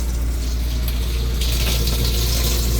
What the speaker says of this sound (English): Testing the seals of the shower. And as you can see, the water's just hitting the wall back here.